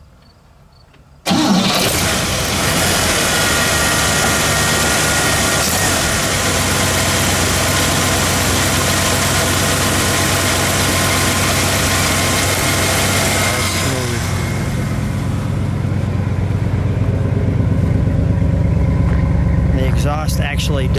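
1957 Cadillac Series 62 convertible engine cranking and firing up, then settling into a loud, steady, close idle that runs on for many seconds, with a brief change near the end.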